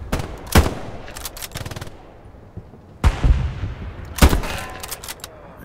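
Gunfire in the World War II shooter Hell Let Loose: a few loud, close rifle shots with booming echoing tails and distant battlefield rumble between them.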